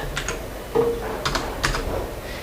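Someone types a sentence on a computer keyboard, a few soft scattered key clicks in an irregular rhythm, close and fairly quiet.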